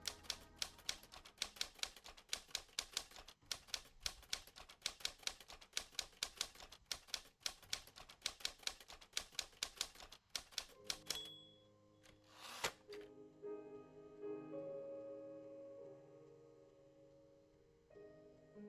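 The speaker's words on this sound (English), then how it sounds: "Let's take a seat and get down to typing." Rapid typewriter keystrokes clatter in a dense, irregular burst from the video game The Shattering, close and loud for about eleven seconds, then stop abruptly as a softer, sustained musical background takes over.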